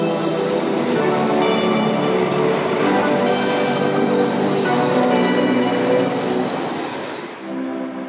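An Albatross low-floor tram runs through Antwerp with a loud, steady rail rumble and high metallic wheel squeal, close by and continuous before easing off near the end.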